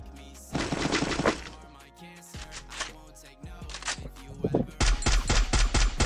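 Rapid bursts of video game gunfire crackle in several volleys, with shattering impacts and a heavy final barrage, loud and close.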